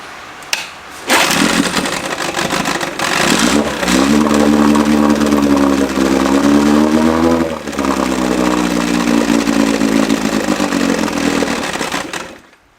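A seized outboard motor fires up and runs at wide open throttle, a loud, harsh, buzzing roar sustained for about ten seconds with a brief dip midway before cutting off.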